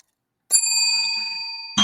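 A bright bell ding rings out cleanly after silence, its clear sustained tone slowly decaying before a second strike lands at the end.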